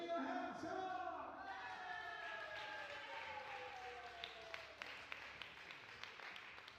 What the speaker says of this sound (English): to the biggest applause you can give